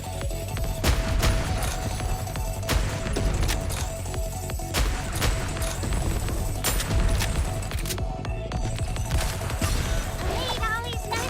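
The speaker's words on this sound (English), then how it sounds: "Some firecrackers ought to do the trick" Rapid bursts of firecrackers pop and crackle in a gacha video game, dense and continuous with sharp snaps throughout, under occasional talk.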